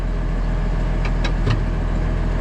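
An Allis-Chalmers 8070 tractor engine runs steadily nearby, a loud continuous low rumble with a few brief higher rattles.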